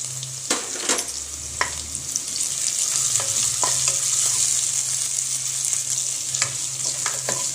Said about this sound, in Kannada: ಇವಾಗ ಜಜ್ಕೊಂಡಿರೋಂಥ ಬೆಳ್ಳುಳ್ಳಿನ ಹಾಕೋತಾ ಇದ್ದೀನಿ ಹಾಗೆ ತುರ್ಕೊಂಡಿರೋಂಥ ಶುಂಠಿನ ಹಾಕೋತಾ ಇದ್ದೀನಿ